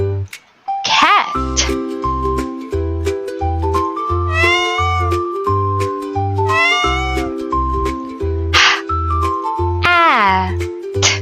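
A cartoon-style cat meows in a kids' word-reading lesson, several rising-falling mewing calls over a steady bouncy music beat with bright chime-like notes.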